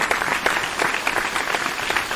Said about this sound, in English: Here, I'm going to give you some applause here.